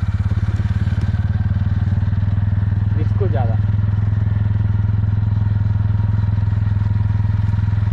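Motorcycle ridden on a road at night, a steady loud engine drone throughout with a brief clattering scrape midway, while a voice talks over it.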